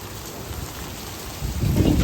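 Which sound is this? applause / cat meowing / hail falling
hail falling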